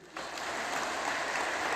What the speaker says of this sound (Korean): 그래서 다시 한번 박수 해주세요.